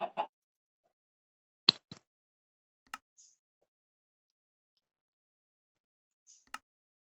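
A black chicken in the Minecraft video game clucks in short, sparse bursts separated by long silences, with a few soft clicks between them.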